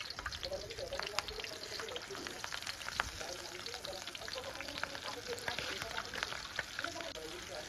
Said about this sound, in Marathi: हिरवी मिरचीला आपण आतून मधोमध बारीक कट करून त्यात मीठ भरून घेऊयात आणि तळून घेऊयात